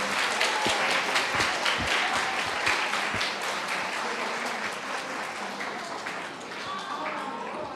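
Students at a school club expo applaud for the chess club, with a few sharp individual claps rising early over a dense, steady wash of clapping that gradually fades.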